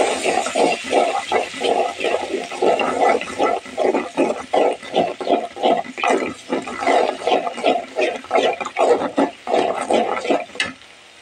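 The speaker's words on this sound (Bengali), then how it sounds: "আমি এখন আদা রসুন বাটাটা দিয়ে দিলাম। এখন একটু কষিয়ে নেব।" Ginger-garlic paste sizzles and is stirred in a hot pan, a close, rhythmic scraping and frying with repeated strokes of the spoon throughout and no talk.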